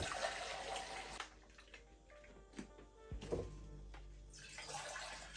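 Water pours from a watering can or jug onto potted plants at night, a steady splashing trickle close by that breaks off and resumes in short bursts, with no talking.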